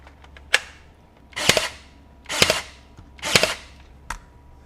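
A DeWalt 20V DCN623 23GA cordless pin nailer firing pins into wood, five sharp close snaps, three of them followed by a brief mechanical whir.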